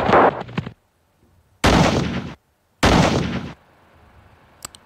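Gunfire in ArmA: Cold War Assault, with three loud bursts of rifle or machine-gun fire separated by short pauses, close and alone, and a faint tick at the end.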